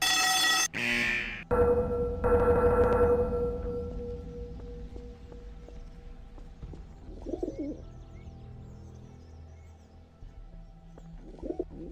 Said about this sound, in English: What if it just made a pigeon noise?